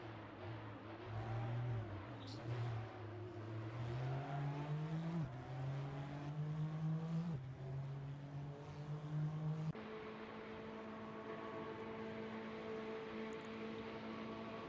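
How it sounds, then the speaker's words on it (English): Race car engine in a virtual racing game during a qualifying flying lap after leaving the pit lane, loud and close, climbing in pitch through the gears with sharp drops at each upshift. "as Dino Palmer, emerging from the pit lane, starts his flying lap."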